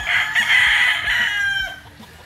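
A yellow-legged Kelso gamefowl rooster lets out one loud, close crow, a drawn-out strained call that tails off after about two seconds, with no one talking over it.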